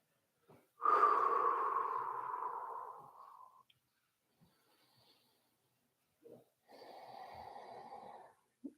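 Deep breathing during a yoga stretch, one long loud exhale and then a softer second breath after a quiet pause, heard close and alone.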